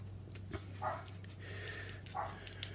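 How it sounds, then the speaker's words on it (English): A small pet dog barks excitedly in the distance, a few sharp yips spaced out over a low steady hum, faint and somewhat muffled. "It's my little dog going berserk for some reason."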